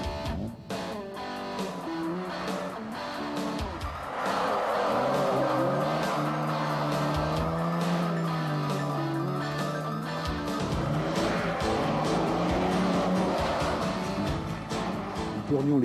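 An Aston Martin and a Ferrari are driven hard for a film stunt, their engines roaring and revving continuously with shifting pitch throughout, while a voice talks over the engine noise.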